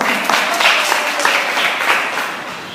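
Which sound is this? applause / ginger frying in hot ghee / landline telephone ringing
applause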